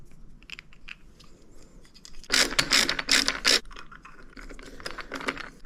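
Screws are tightened while mounting a Retract-A-Gate retractable baby gate by a banister, producing a burst of rapid ratcheting clicks for about a second, with quieter handling clicks before and after.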